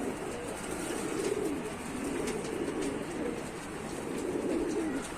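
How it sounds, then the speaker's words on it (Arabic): Loft pigeons cooing steadily, with overlapping low throaty calls rolling on continuously at close range over a constant background hiss. "فردين ولا 3 حمام نزلوا"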